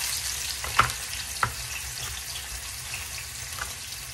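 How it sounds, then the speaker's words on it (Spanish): Food frying in a pan at home, a soft steady sizzle with a few brief louder pops and clinks, quiet and continuous. "friendo primero esto."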